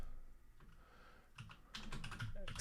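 Soft, quick keystrokes on a computer keyboard pattering irregularly, ending with a firmer press of the enter key; faint and close, with no talking.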